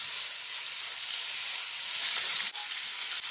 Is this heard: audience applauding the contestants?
no